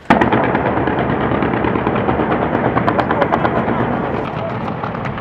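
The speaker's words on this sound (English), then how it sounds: "A storm of gunfire was coming from Gao's central courthouse, the Palace of Justice." Heavy, continuous gunfire during a street battle around the central courthouse in Gao, Mali, with dense rapid bursts and shots rattling one after another, loud and close, and no clear pause throughout.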